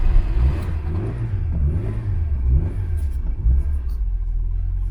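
A small Citroën AX car engine runs close by with a low, throbbing rumble, rising and falling through several uneven revs before settling back toward idle.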